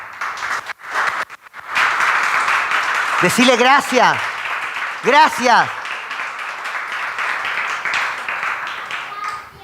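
A church congregation applauds during a sermon, a sustained stretch of clapping from many people with a brief pause near the start, while someone speaks over it and voices call out.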